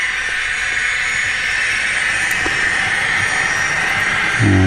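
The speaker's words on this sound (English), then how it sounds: "we have the locomotive up and running in turbine mode, and let's just take it out of this yard, pulling some scale trains" A GTEL 4500 model turbine locomotive pulls scale covered hopper cars out of a yard in turbine mode, giving a steady, close whining turbine hiss and hum that runs continuously, with a brief low thump near the end.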